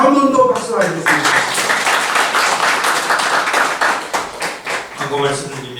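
Congregation applauding at a church thanksgiving service for honorary doctorate recipients, a dense wash of clapping that runs for several seconds, with a voice speaking briefly at the start and again near the end.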